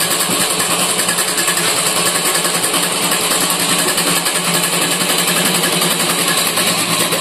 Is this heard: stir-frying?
no